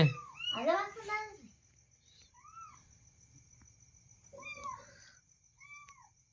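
A cat meows a few times, short rising-falling cries spaced apart, after someone speaks at the start.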